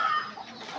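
A chicken at a farm gives a short, close cluck, a single brief call with no talking over it.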